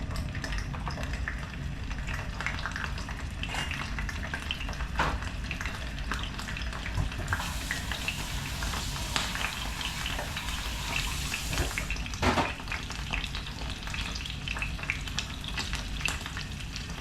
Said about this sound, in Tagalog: ipiprito ko na